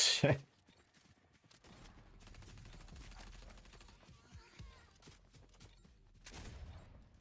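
Gunfire from a weapon with heavy recoil in the video game Fortnite: a loud burst of shots opens, softer rapid firing rattles on underneath, and another burst flares near the end.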